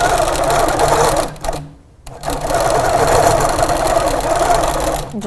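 A Grace Co. Little Rebel sewing machine stitches quilted table runner fabric with a fast, loud, continuous mechanical chatter, pausing briefly near the middle before resuming.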